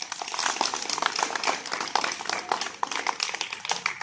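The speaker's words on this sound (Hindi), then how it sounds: "तोता ने कहा ताली बजाओ" Children clap their hands during a classroom game, a dense scatter of overlapping claps from a group running steadily without pause.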